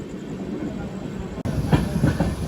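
A passing train on the adjacent track rushes by with a sudden surge of clattering wheels and rumble after a brief dip, heard from aboard another moving train.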